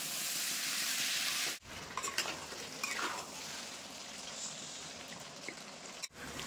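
Amla simmering with jaggery in a pot gives a soft, quiet sizzle and bubbling while being stirred, broken by two brief silent gaps, with no talking.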